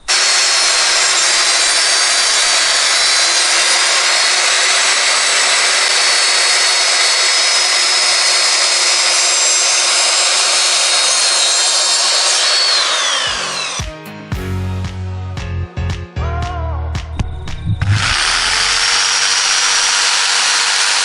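Power saw cutting a floorboard along a laser line while laying a floor, a loud continuous high-pitched cutting whine that stops around the middle, followed by handling clatter and knocks before the cutting resumes.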